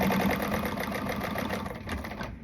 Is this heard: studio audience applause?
no